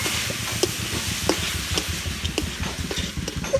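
Grated coconut filling being stirred in a pan, with a continuous soft scraping and light sizzle and a few small taps of the spoon, close up and with no voices.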